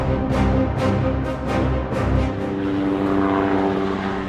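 A light military helicopter drones loudly and close by, its rotor chopping in steady pulses over a continuous engine roar.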